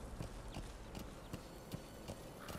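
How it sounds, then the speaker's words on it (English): Rhythmic horse hoofbeats in Metal Gear Solid 5 clop at a steady walking pace, crisp and fairly close, with a faint ambient bed behind them and no talking. "I don't think my horse is used to this. Look how he's walking."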